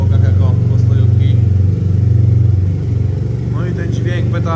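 A 2019 Yamaha T-Max 530 SX scooter with a full Akrapovic exhaust idles with a deep, steady, pulsing burble close by, while someone talks over it.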